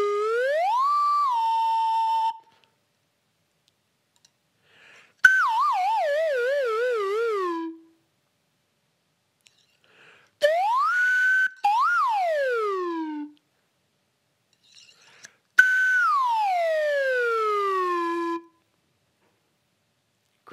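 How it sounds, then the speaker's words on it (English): A slide whistle plays four separate phrases: a rising glide, a wavering descending slide, a rise-and-fall swoop and a long falling glide, each clear and alone with silent pauses between. "I'll play my real slide whistle"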